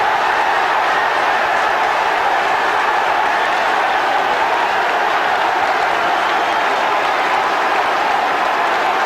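A football crowd in the stands at a West Ham United v Cambridge United Division One match claps and cheers in a dense, steady roar of applause that stays loud and unbroken throughout.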